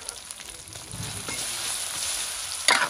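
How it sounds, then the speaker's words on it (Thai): Meat stir-fried with chili curry paste in a hot pan, a steady loud sizzle with occasional scrapes of stirring, close and without talk. "ผัดพริกแกงครับหอม"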